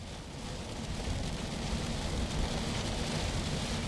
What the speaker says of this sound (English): we can hear the rain coming down on our roof here at the studios